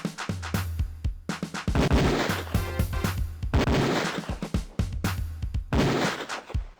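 A pistol fires repeatedly on a shooting range in Police Quest 4, sharp loud shots in rapid bursts and pairs, separated by short pauses.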